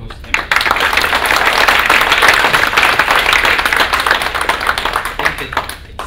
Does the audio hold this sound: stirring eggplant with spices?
no